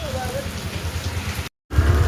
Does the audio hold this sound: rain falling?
yes